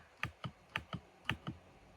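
On a reassembled computer keyboard, the space bar is pressed six times in a loose rhythm, and each press lands as a close, fairly quiet thock followed by a softer return click.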